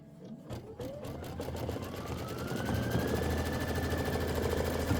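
Sewing machine running steadily as it stitches a decorative outline stitch around fused appliqué, a dense rapid mechanical whir that ramps up and holds at a constant pace, close and alone.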